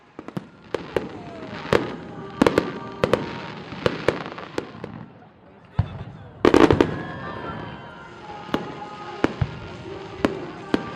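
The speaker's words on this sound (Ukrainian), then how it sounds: "Святковий вечір завершив ефектний салют." Fireworks bang and crackle at a distance, a string of sharp irregular pops with a denser burst midway, over a faint background of voices.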